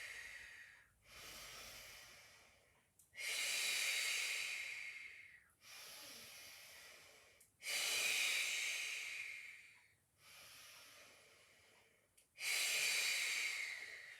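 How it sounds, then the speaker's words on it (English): Repeated breathing out during a Pilates exercise: several long, forceful breathy exhalations in a steady rhythm, alternating with softer breaths, close and clear with no talk. "Breathing out as we bring it in."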